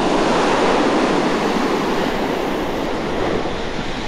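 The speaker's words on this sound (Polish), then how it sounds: "nadal fale podchodzą pod knajpkę" Sea waves surging onto a windy Baltic beach at Mrzeżyno, a loud, continuous roar of surf and wind with no break.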